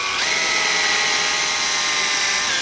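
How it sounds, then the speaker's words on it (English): A steady, high-pitched power drill with a large 1/2-inch bit bores through a cabbage, whirring continuously and loudly up close, its pitch rising slightly at the start and then holding even. "get a big 1/2-inch drill bit like you see on here and drill through the cabbage"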